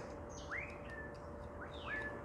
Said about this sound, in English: how beautiful sound those birds